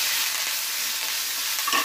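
Roasted chutney ingredients with added garlic being stirred in a pan for a ridge-gourd-seed chutney, giving a steady soft scraping and faint sizzle that runs continuously for a couple of seconds, with no voices.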